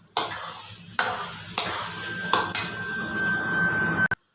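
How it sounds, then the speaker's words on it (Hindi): Carrot halwa roasting in desi ghee in a pot, stirred with a metal spoon that strikes and scrapes the pot about five times over a low sizzle, close and clear. "हिलाते जाना, रोकना नहीं है वरना आपका हलवा जो है वो नीचे से लग जाएगा"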